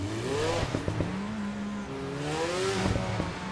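Race car engine in the sim racing game Le Mans Ultimate at Spa, revving up and down through gear shifts with sharp clicks between changes, loud and close.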